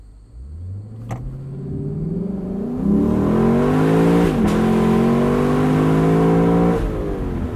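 A 2021 Lexus LC 500 Convertible's V8 engine accelerates hard, revs climbing through rising gear pulls with a short dip at a shift, loud and close from inside the car.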